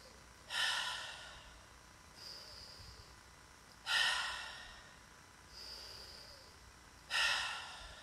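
Breathwork breathing with each inhale joined to the exhale: three strong, close, airy breaths alternate with two softer, hissing exhales in a slow, even rhythm against a quiet background.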